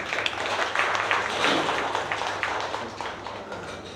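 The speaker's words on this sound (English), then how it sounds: "So we have a huge round of applause." An audience at a heritage-network event applauding a speaker, producing steady, dense clapping that fills the whole stretch at moderate loudness with no talk.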